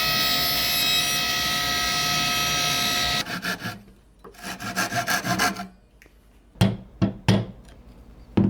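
A table saw slices through a board clamped down on its top while building legs for a DIY folding Lego table: a loud, steady whirring whine for about three seconds, then it cuts off, leaving intermittent scraping and handling knocks.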